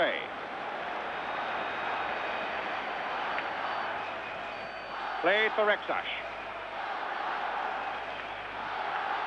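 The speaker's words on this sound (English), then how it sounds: "Spanish crowd have really found their voices in the last quarter of an hour" Spanish football crowd roaring in the stadium during Barcelona versus Leeds United, a broad continuous rumble of cheering under a commentator's voice, with a short spoken phrase midway.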